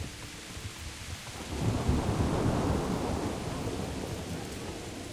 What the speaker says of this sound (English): Jesus, look at this rain.